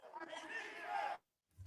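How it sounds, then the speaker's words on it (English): A crowd at a Midwest Arena Football League game between the Grizzlies and Bulldogs at Mojo Sports Complex roars and chants in a loud, sustained swell, then cuts off abruptly into silence before a faint new rumble. "as you can hear the crowd going in here, chanting defense"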